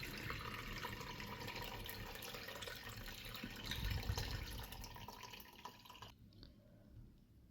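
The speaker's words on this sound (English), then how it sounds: "I'm going to strain into a measuring cup using a strainer and some cheesecloth" Chicken stock strains through a metal strainer lined with cheesecloth into a measuring cup, a steady close trickle and drip of liquid running for several seconds before it abruptly thins out near the end.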